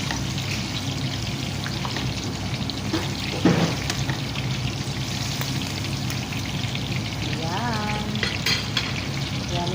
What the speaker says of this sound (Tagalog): So ngayon, iprito ko na siya.